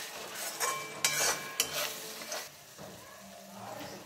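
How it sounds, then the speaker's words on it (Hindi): Tomato being stirred into frying spices in a pan, with a soft sizzle under a few sharp scraping and clinking strokes of a spoon, close and quiet. "तो ये 1 टमाटर है और इसको भी कर देंगे मिक्स मिक्स मिक्स।"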